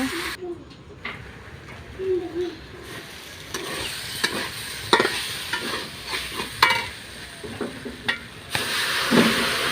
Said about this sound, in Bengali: মিক্সড করা মশলা আছে মশলাটা আমি দিয়ে দেবো নাড়িয়ে চাড়িয়ে নেব